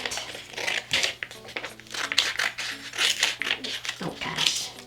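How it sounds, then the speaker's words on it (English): Scissors open and close while cutting paper in a preschool class: repeated crisp snipping and crinkling in an uneven rhythm, close and clear, with a voice talking underneath. "I'm just gonna open and close with my scissors."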